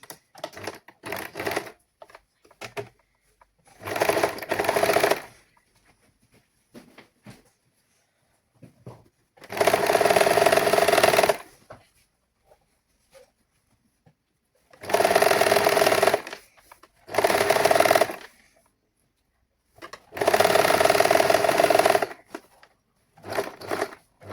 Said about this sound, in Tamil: இந்த சாரி துணி நல்ல பக்கத்துக்கு மேலே நான் அந்த லைனிங் துணியை வச்சு தைக்க போகிறேன்